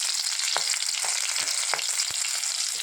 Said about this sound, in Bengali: এবার দেখাবো মেথি শাক ভাজবো